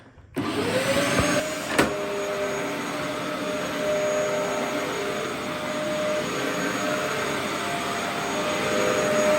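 A Dyson DC04 upright vacuum cleaner switches on and settles into a loud, steady whirring roar with a high whine, running continuously.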